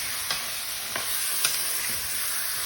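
Chicken pieces in curry are stirred in a frying pot, giving a steady sizzle with a few soft scraping strokes roughly every half second, close and fairly quiet.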